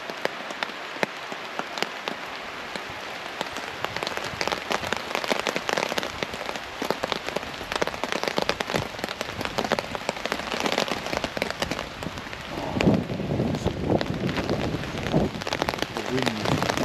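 Storm rain drums on a taut tent roof overhead, a dense irregular patter of close drops that thickens and grows louder toward the end.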